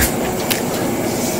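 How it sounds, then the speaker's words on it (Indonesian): Steady rumble and rattle inside a moving local economy train carriage on the Merak line in Indonesia, with a brief sharp knock partway through and no voices. "Sekarang kita ada di gerbong kereta api ekonomi Merak."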